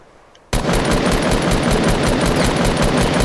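Sustained automatic gunfire in Fortnite erupts suddenly after a brief quiet moment, then continues as a loud, dense, rapid stream of shots without pause.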